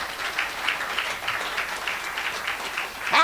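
Crowd clapping in a studio audience during a Nigerian call-in radio program, a steady patter of many hands continuing throughout at moderate level.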